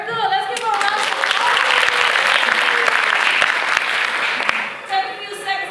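An audience at a presentation gives a round of applause, a full, steady wash of clapping that swells quickly and fades near the end, with a voice heard at the start and close.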